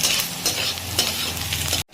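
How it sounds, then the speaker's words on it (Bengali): A dish frying in a pan with a continuous close sizzle and a few scraping stirs, cutting off abruptly at the end. "তো এখানে দেখুন চলছে, এটা আরো সামান্য একটুখানি ভাজা হবে।"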